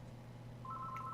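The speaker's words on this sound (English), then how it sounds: "What's this phone doing in here?" A telephone gives a short dialing tone, a thin steady beep starting midway over a low constant hum, faint and close.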